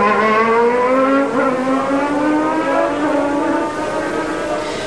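Formula One cars roaring away at the 1994 Imola race start, a dense pack of high-revving engines climbing in pitch together, loud and sustained with layered harmonics and no talk.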